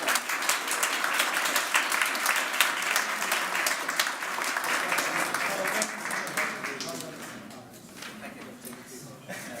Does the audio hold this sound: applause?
yes